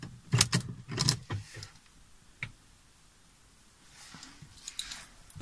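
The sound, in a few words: car key in Porsche Cayenne 955 ignition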